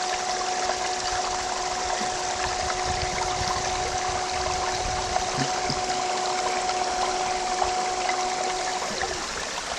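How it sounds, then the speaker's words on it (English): A bilge pump used while gold prospecting moves water with a steady whining hum over a rushing water wash. The motor tone cuts out near the end. "this is what I use for my thing, it's just a bilge pump"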